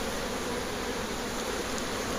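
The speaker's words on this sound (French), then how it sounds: "on voit très bien que ça déborde d'abeilles" Dense honeybee buzzing from a queen-rearing starter colony overflowing with bees, a loud continuous close-up drone held steadily throughout.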